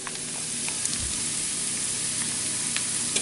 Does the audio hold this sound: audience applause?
no